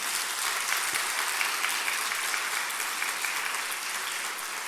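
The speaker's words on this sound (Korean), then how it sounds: "박수 한번 합시다" Congregation at a Korean church gathering gives a round of steady applause, an even wash of many clapping hands held at a moderate, fairly distant level for several seconds.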